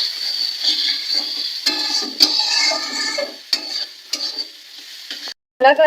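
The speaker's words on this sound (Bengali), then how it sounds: "মশলাটা একটু নাড়াচাড়া করে নেবো" Masala for a mutton curry being stirred as it fries in oil, a steady sizzle broken by repeated scraping strokes of a spoon against the pan, close and fairly loud with no talking.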